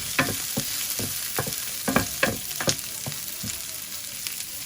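Bitter gourd slices frying in a pan, turning golden, give a steady close sizzle with repeated sharp crackling pops and occasional stirring scrapes, no talking over it.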